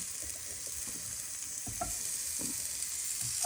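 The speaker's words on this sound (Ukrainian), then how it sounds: "Отак прожарюємо цибулинку і половинки морквини" Onion and carrot halves sizzle in a pan with a soft steady hiss, while occasional scrapes and stirring knocks sound up close.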